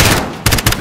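Gunfire in the video game Call of Duty: Modern Warfare, loud close bursts of rapid shots in two or three quick volleys.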